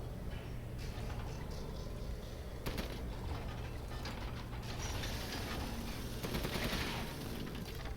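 Rapid machine gun fire in the horror video game Resident Evil Village, a dense stream of mechanical rattling bursts over a constant low rumble, fairly quiet throughout.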